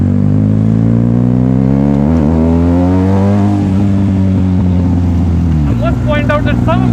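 A Benelli TNT 300 motorcycle with a very loud aftermarket exhaust revs hard on a night ride, its engine note climbing and dropping in sustained close roars.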